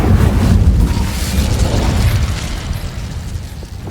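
An Incendio fire spell in Hogwarts Legacy bursts with a loud, explosive whoosh at the start, then rumbles and roars as a sustained fiery blast that slowly fades.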